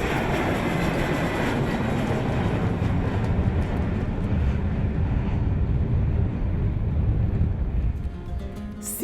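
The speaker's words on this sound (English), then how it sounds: "you have the planes coming almost at you as they land" Planes landing and taking off beside a road near the naval school in Rio, a loud, continuous jet roar that holds steady for most of the stretch before easing off near the end, with no talking.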